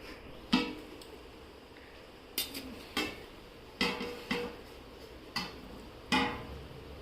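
Lid handling on a pot of mutton biryani after dum cooking, several sharp metallic clanks and taps spaced irregularly, close and moderately loud.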